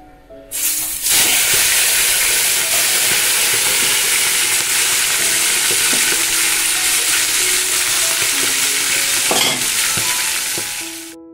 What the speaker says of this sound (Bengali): আর এইবার মাছের ঝোলটাও বসিয়ে দিলাম